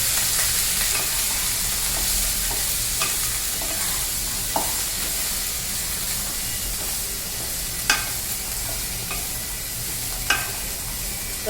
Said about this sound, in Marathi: फरसब, शिमला मिरची, अद्रक लसूणची पेस्ट हे आता मिक्स करणार आहे मी.